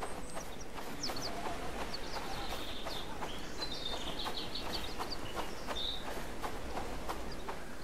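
Chickens cluck faintly in the Bellwright video game over a dense, steady background of rustling ambience, with brief higher chirps scattered throughout.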